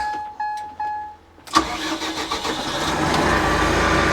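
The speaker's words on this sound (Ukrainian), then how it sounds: "Запускаємо трактор." On an old farm in Switzerland during haymaking, a few short warning chimes sound, then a tractor engine cranks and catches, settling into a loud, rumbling idle that grows steadily stronger; no voices are heard.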